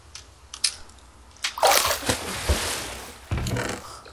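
A splash of a character jumping into water in Minecraft during a Hunger Games match, one broad burst of sloshing water after quiet scattered clicks, followed by a second softer splash.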